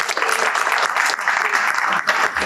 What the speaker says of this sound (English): I'd like to give one last round of applause for all of our educators